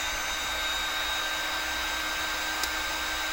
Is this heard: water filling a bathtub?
no